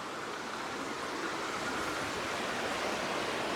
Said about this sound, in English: Beautiful little old weir.